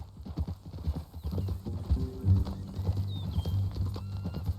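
Horse hooves clip-clop steadily in Red Dead Redemption 2, close and fairly loud, with a brief whinny partway through over a low rumbling ambience.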